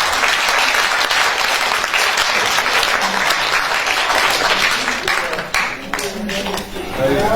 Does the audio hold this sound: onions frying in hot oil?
no